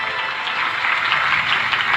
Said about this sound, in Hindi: एक बार उनके लिए तालियां होनी चाहिए साहब।